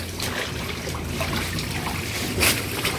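Reusable gloves are washed by hand in water, making soft continuous sloshing and trickling with one louder splash near the end; moderately loud, with no talking.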